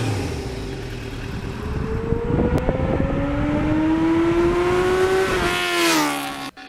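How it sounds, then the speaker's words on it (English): 1989 Kawasaki GPX750R motorcycle with a Norton muffler, its engine revving with a rising tone as it accelerates under riding wind noise, then dropping off sharply as the throttle closes. "this was from a time when I had the Norton muffler on the bike, and that was a little bit louder than the mufflers"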